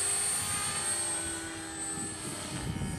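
A Rave 450 RC helicopter's rotor spins at a steady high-pitched whine with a low buzzing throb underneath, loud and close throughout with no talking.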